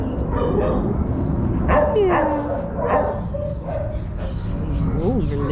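A dog yips and whimpers in short excited bursts while a person talks warmly over it nearby.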